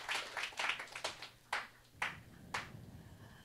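A small audience claps for Ben in a quiet room, a short flurry of hand claps followed by a few sparse, distinct claps that trail off.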